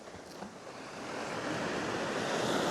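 Waves wash onto a beach in Sutherland during a beach fishing session, a continuous broadband roar of surf that swells louder over a few seconds, with some wind noise on the microphone.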